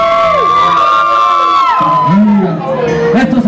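Concert crowd at a Spanish-language hip hop show cheering, whooping and shouting together, loud and close, with a voice rising above the noise.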